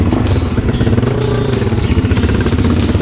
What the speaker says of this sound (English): with both bikes warmed up now, it's time to head north to Noosa